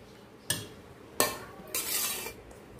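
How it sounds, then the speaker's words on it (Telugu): Tamarind rice (pulihora) being mixed by hand with cooled tamarind paste, giving three soft bursts of squishing, rustling grain, the last one longer, close and fairly quiet. "నేను ఎప్పుడు కూడా చేత్తోనే కలుపుతాను"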